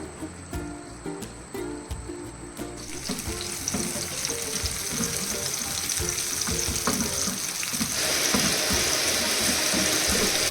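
Shallots temper in hot coconut oil, a frying crackle that swells into a louder, steady sizzle partway through, with a few light utensil taps early on.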